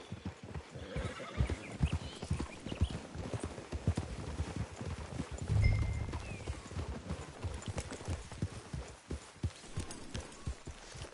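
Horse hooves clip-clop steadily on hard ground in the video game Red Dead Redemption 2 while a horse whinnies midway, with faint background ambience and no talking.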